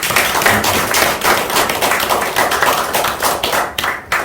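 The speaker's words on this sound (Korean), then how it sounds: "우리 목사님들께 다시 한번 큰 박수 부탁드립니다" Congregation clapping at a Korean Presbyterian pastor ordination service, a dense, steady patter of many hands filling the space nearby, continuous through the clip with slight swells and a brief dip near the end.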